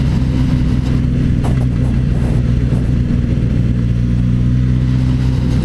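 Suzuki GSX-S1000Z motorcycle engine running loud and close, a steady deep throbbing drone with a brief rise in revs near the start, alone without talk.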